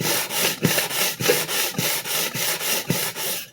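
A vintage Clyde Cutlery chef knife being sharpened, its steel edge drawn repeatedly across a stone in a steady rhythm of about ten raspy back-and-forth strokes, close and loud, with no speech.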